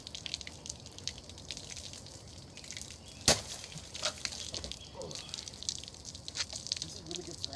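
A sharp pop as a fist punches through saran wrap stretched over a container of ice water, followed by light splashing and dripping, quiet and close.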